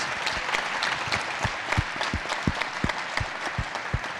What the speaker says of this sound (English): Another round of applause, final round of applause